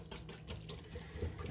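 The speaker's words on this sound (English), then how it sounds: "just quickly whisk them up" Whisking Caesar dressing ingredients, including a few dashes of hot sauce, in a bowl: a soft, quick, steady whir and patter of the whisk, close by, with no voices.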